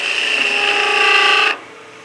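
A skew chisel slices wood on a spinning lathe while turning a German smoker, a loud steady hissing cut held for about a second and a half before stopping abruptly, leaving only faint room noise.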